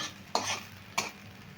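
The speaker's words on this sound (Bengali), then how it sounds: "আমি দুই থেকে তিন মিনিট পর্যন্ত নেড়ে চেড়ে ভেজে নেব" Two quick scraping stirs of potatoes in a wok cut through a steady sizzle of frying, with a short pause between them.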